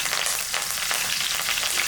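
Dense, steady crackling and spitting of mustard seeds popping in hot oil, close up and continuous, with no voices.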